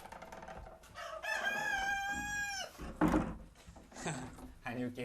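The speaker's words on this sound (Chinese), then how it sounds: "你现在听的公鸡叫也很有意思啊！" A rooster crows one long, loud, drawn-out call, with clucking and knocks around it and people talking before and after.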